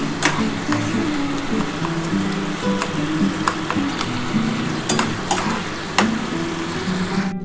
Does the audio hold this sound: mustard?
yes